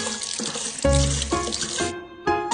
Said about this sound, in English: I'm going to run it under hot water to melt it a little bit.